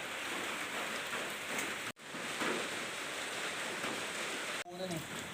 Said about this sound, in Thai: ตอนนี้ก็คือฝนตกอยู่นะ